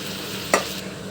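Marinated chicken frying in a pan gives a constant close sizzle, with a brief louder hiss and clatter as it is stirred.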